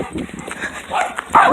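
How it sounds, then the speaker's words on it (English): A Rottweiler barks in a brief, rough burst among other dogs during a chase, close by, with people talking and shouting over it. "That Rottweiler."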